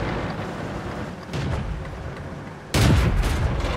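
Tank cannon fire in a tank battle video game: a loud, broad blast near the end over a steady rumble of battle noise, with a fainter boom earlier.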